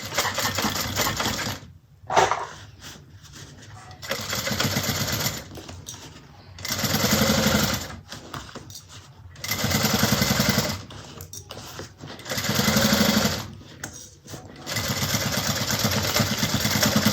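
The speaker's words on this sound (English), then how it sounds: "And let's sew that closed." A sewing machine stitches a fabric bag closed in several bursts of rapid, buzzing stitching, separated by short pauses and quiet handling, close and clear.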